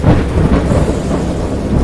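A great storm brings deep rolling thunder mixed with heavy continuous rain, loud and close and filling the whole moment.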